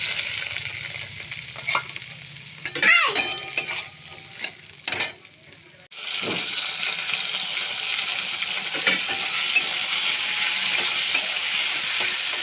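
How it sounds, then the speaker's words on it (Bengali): Malabar spinach stems fry in oil with dry chili in a wok. A few stirring scrapes and knocks come first, then a loud, steady sizzle fills the rest without pause. "আস্তে আস্তে ভাজা করে নিতে হবে, নরম হয়ে শুকিয়ে যাবে।"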